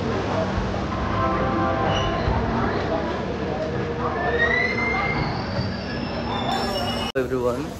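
Passenger train riding on the Indian line toward Sealdah, a continuous rumbling clatter of wheels on rails with faint squeals, steady and close from inside the carriage.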